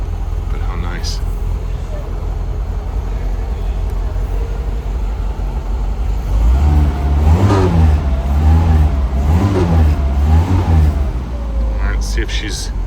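A 1961 Mercedes 190SL engine idles steadily, then revs up several times in rising and falling swells before settling back to idle, heard close and loud with someone talking over it.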